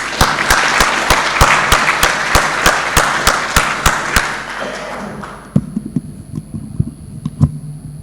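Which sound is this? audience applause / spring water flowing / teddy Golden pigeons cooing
audience applause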